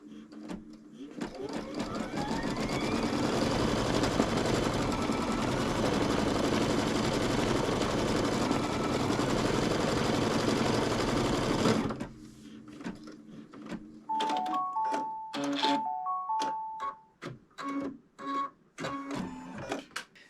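A computerized embroidery machine sews an appliqué tack-down line, its dense mechanical whirring and rapid needle rhythm running steadily and loud for about twelve seconds before stopping, followed by quieter clicks, machine beeps and a spoken voice.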